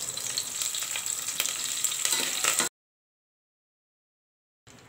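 Curry leaves hit hot oil already holding dried red chillies and small onions, giving a loud crackling sizzle with sharp pops that cuts off abruptly into silence, then briefly resumes.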